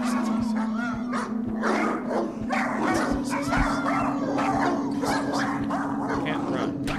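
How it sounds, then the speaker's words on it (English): A dog in the video game Claire barks repeatedly and yips in short, close bursts over a steady low hum, with some whimpering between barks. "Is this the same dog that is helping me right now?"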